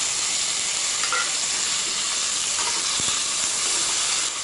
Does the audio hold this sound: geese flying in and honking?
no